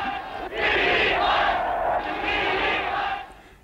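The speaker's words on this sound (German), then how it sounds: "Und so kam denn, was kommen musste, es jubelte dem anderen zu. Willy Brandt." A large outdoor crowd of East German citizens cheers and chants for Willy Brandt, a loud, sustained roar of massed voices rising in waves before easing off.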